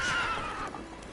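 A horse named Roach whinnies loudly in The Witcher 3, a bright neigh standing out at the start and then fading over a steady, continuous game background.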